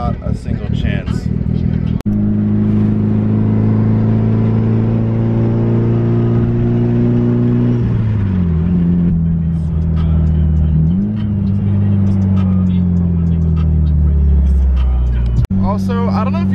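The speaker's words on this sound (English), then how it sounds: "this turbo is so loud in person. It sounds like a Southwest airplane." Mitsubishi Evo 9 tuned to over 460 horsepower pulls hard, its loud turbo whine and engine drone rising and shifting pitch through gear changes, heard close from inside the car with a person talking over it.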